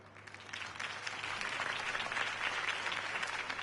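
A crowd claps steadily after a political campaign speech in the Batman Telltale video game, a dense, even wash of applause with no voices on top.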